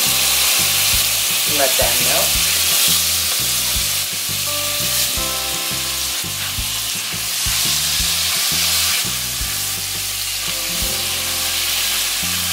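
Butter melting in a hot pan for kids' mac and cheese, a loud continuous sizzle with stirring scrapes and clatter throughout, and a short spoken remark near the start.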